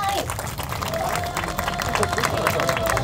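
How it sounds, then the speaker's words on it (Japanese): Crowd at a J.League football event clapping along in steady rhythm, dense and fairly loud, with an announcer's voice and crowd chatter mixed in over background music. "お手拍子でお願いください。"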